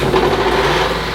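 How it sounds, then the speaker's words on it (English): A small loader's engine cranks and runs on the farm, shifted into neutral: a loud, steady, high-pitched mechanical drone with dense broadband noise and no pauses across the short clip. "Let's put it in neutral, start it up."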